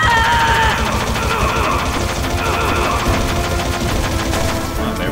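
Metal Gear Solid video game gunfire: dense, loud bursts of rapid automatic shots crackling nonstop, layered with explosions and engine rumble, with brief speech mixed in.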